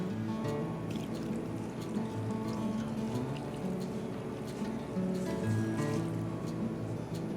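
Two cups of water are poured into a crockpot for wild turkey and wild rice soup, making a steady, soft, continuous splashing rush with no talk.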